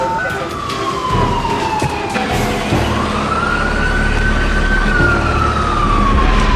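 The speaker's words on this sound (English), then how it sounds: "Here comes a cop car. Here comes a police car." A police car siren wails loudly nearby, its pitch sweeping down and then rising again over heavy engine rumble, continuous throughout.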